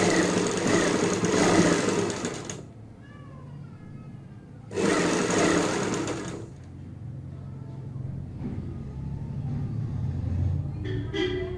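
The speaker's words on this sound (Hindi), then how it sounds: "अंदर वाली सिलाई पे सिलाई लगाते हुए, गोलाई पे सिलाई लगाते हुए" A sewing machine stitches piping onto the neckline of a kurti, running in two loud, steady, buzzing stretches of about two seconds each, with quieter fabric handling in between.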